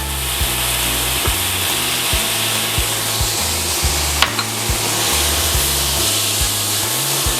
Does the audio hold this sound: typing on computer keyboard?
no